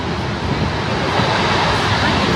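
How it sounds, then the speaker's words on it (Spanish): A waterfall in Québec City, heard from below at the base, roars as a loud, steady wash of rushing water that fills the whole moment, with a little wind buffeting the microphone. "Esta es la cascada desde abajo."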